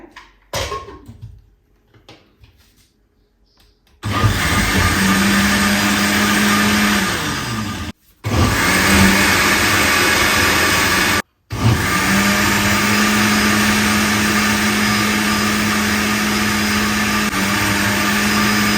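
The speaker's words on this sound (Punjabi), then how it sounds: "ਆਪਾਂ ਨੇ ਇਹਨੂੰ ਬਿਲਕੁਲ ਪੀਸ ਲੈਣਾ ਬਿਲਕੁਲ ਬਰੀਕ ਕਰ ਲੈਣਾ" A kitchen grinder grinding ingredients finely: after a few seconds of handling, a loud, steady motor whine runs close up, cutting out briefly twice before continuing.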